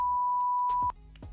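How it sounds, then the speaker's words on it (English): A GoXLR audio mixer's censor effect sounds one clean, steady electronic beep lasting nearly a second, then cuts off abruptly, followed by faint clicks and handling noise. "We also have we can make a beep sound."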